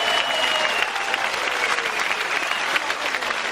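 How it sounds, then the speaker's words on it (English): Audience applause for grappling competitors after a Polaris match, a steady wash of many hands clapping at moderate loudness throughout, with faint crowd murmur and no clear talk. "let's give another round of applause for these Polaris competitors"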